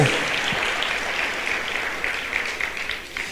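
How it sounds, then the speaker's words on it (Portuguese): Congregation clapping in praise during a church service, a steady wash of many hands at moderate distance lasting a few seconds without talk. "Aplauda o Senhor Jesus."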